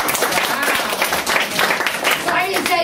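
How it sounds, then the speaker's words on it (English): Applause from an audience at a live event in Dubai, a dense, steady wash of many hands clapping close by, with voices mixed in. "Let's clap our hands for this too."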